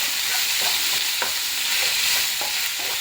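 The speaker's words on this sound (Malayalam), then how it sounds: "നന്നായിട്ട് ഇത് ഇളക്കി യോജിപ്പിച്ച് വഴറ്റിയെടുക്കണേ" Onions with salt sizzle steadily in a pan for a breadfruit curry, a continuous loud frying hiss with faint spoon scrapes as they are stirred, close and uninterrupted.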